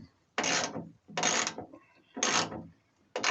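A ratchet tightens a fender bolt on a Chevrolet C10 under restoration, heard as four distinct bursts of rapid clicking strokes, close and fairly quiet, with short pauses between them.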